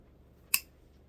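A single sharp snip as cutters clip the excess tail of a plastic zip tie on a ribbon bow, one quick close click in an otherwise quiet room.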